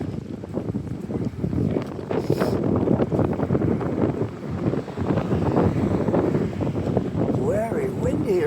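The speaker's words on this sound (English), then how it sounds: "Very windy right here." Gusty wind buffets the microphone steadily throughout an outdoor downtown walk, a loud continuous roar with a brief passing whoosh, while a person talks over it.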